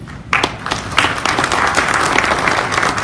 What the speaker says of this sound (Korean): 박수까지 하시는 거 보니까